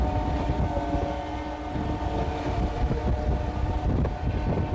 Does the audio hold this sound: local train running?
yes